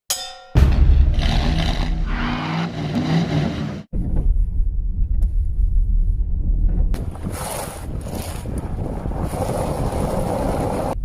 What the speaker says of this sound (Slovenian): Mislim, da sem ravno kar povozil telefon.